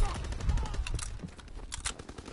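Rapid assault rifle fire from a Call of Duty match plays in short bursts, sharp cracks mixed with game noise and a low rumble, while players talk over it.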